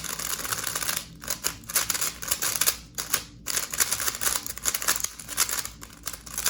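GAN13 speed cube being turned out of the box, a dense run of loud, crisp clicking and clacking in quick bursts with short pauses, close up and without speech.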